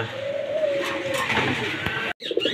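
Light-coloured racer pigeons offered for sale coo close by in a soft, continuous murmur with a few brief chirps, cut by a short silent gap near the end.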